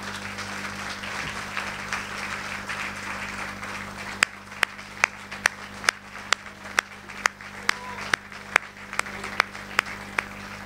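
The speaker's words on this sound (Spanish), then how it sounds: "Si le damos un aplauso al Señor" A church congregation in Talcahuano applauds for the Lord, first as a soft, diffuse patter of many hands, then thinning to a few sharp, evenly spaced individual claps over a low steady hum.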